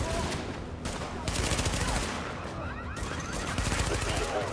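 Rapid, dense bursts of gunfire from the video game The Division, steady and loud throughout with occasional clusters of shots and faint voices underneath.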